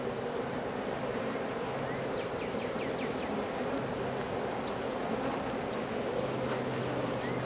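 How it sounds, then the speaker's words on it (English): Honey bees buzz around a hive frame holding an old queen, a dense, steady, close-up drone of many wings that carries on throughout with no talking. "So, you see all these bees festooning?"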